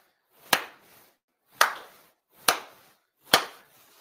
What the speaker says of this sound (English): 4 sincere claps along with the head officiant.